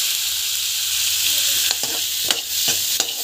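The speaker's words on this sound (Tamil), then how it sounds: "நல்லா வந்து வதங்கட்டும்." Onions sautéing in a frying pan for a dhaba-style mushroom gravy, a steady close sizzle with occasional scrapes of stirring.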